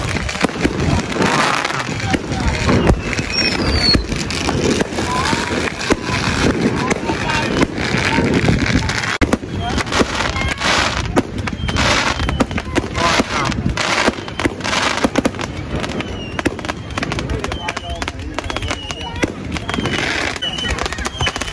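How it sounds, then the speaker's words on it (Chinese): Fireworks bursting at a seaside New Year celebration on Hailing Island, Guangdong, with rapid crackling pops and booms repeating throughout amid wind buffeting the microphone and people talking nearby. "这才是过年，你看吧，这个烟花玩的"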